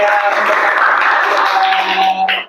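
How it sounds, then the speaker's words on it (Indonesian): A classroom of children breaks into lively applause, a dense wash of many claps with voices mixed in, loud and close, ending abruptly. "Tepuk tangan yang meriah untuk"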